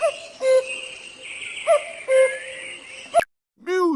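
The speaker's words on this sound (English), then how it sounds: "cuckoo," A cuckoo calls in repeated soft, hooting two-note phrases, followed by a brief voice-like sound at the end.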